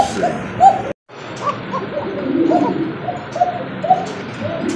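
Soft, repeated cooing from Koka pigeons at close range, low throaty calls recurring through a quiet indoor background with a brief dropout.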